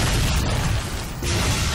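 A grenade launcher blast in the video game Shadow Warrior 2 bursts loud and dense, filling the short moment with booming, crackling detonation noise with no talk over it.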